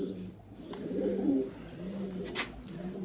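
Pigeons cooing in breeding boxes at a pigeon loft, low soft coos swelling and fading close by over a faint background, with no voices.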